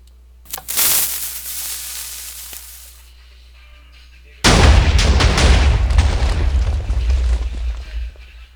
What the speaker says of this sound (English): This will make a big explosion, so don't make it around your house if you want to do this.